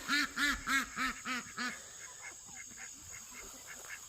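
Ducks quack in a quick run of about six loud, nasal calls, close by, then fall to softer, scattered quacks over faint background noise.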